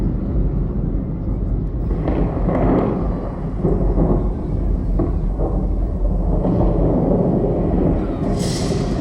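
A loud, rolling thunderstorm effect rumbles through a staged Three Kings' Night show in Vila-seca, a heavy sustained low roar with swelling bursts, while a voice speaks over it.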